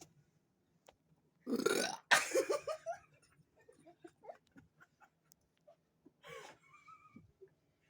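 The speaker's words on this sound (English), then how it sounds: "I'm still working on mine and she burped" A girl lets out one loud, drawn-out burp after drinking Sprite during a Sprite challenge, followed by quieter scattered breaths and small sounds in a quiet room.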